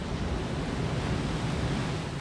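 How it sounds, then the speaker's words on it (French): Big hollow surf waves roll in at Capbreton on the French coast, making a steady broadband roar of surf mixed with wind noise, with no voices. "Les vagues, elles sont grosses, elles sont creuses."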